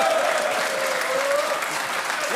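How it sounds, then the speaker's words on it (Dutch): A studio audience at a television talk show applauds, a steady, sustained wash of clapping from many hands at even loudness, with a voice briefly heard over it. "dat applaus voor Rutger, dames en heren."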